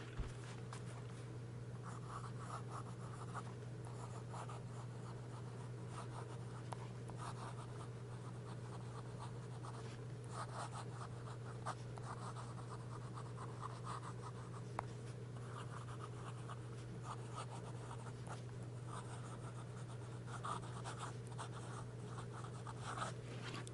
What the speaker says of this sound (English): very nice to see such a fine, elegant pen just glide across the paper.